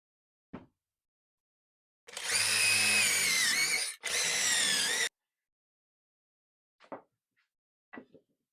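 Power drill driving screws into pocket holes in wood, two whirring bursts about three seconds long with a brief break between, close and loud, framed by small knocks before and after.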